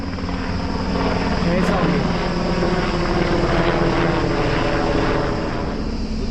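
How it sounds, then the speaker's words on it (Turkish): A helicopter thunders steadily overhead, loud rotor and engine noise throughout, with someone speaking briefly under the roar. "Bu helikopter de geçti."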